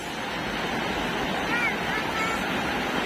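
Ocean waves washing onto Boracay beach, a steady broadband rush of surf with wind noise across the microphone and no clear breaks.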